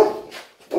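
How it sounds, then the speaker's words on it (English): A puppy gives short whimpering barks, a burst at the start and another at the end with a quiet gap between, close and fairly loud. "He's very interested by the puppy sounds."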